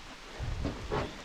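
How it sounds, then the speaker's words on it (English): Steady rain falls outdoors near a garden as a constant broadband hiss, with a couple of slightly louder swells and no talking. "because it's raining now"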